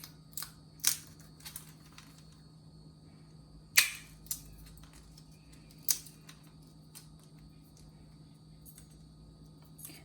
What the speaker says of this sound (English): you want to peel your tamarind. I'm going to crack them open.